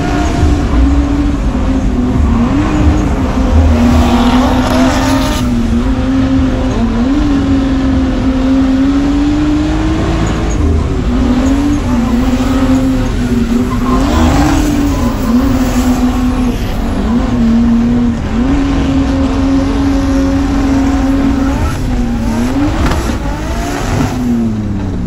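A drift car lapping a wet, flooded race track, its engine droning loud and steady with repeated rises and falls in revs and occasional squealing tires, continuing for about twenty-five seconds without speech.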